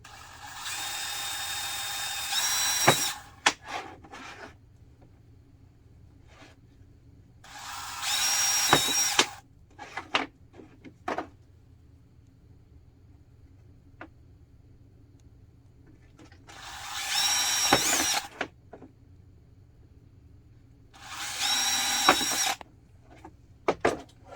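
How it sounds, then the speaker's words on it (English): A power drill whirs in four short bursts of a few seconds each, drilling holes for a dryer hood vent, separated by quieter gaps with light handling knocks and rustles. "now we're going to drill the holes where we made our marks"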